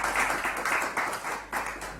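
An audience at an economics investment dialogue applauds a speaker, a dense sustained patter of many hands clapping together, steady and fairly close, with no talk over it.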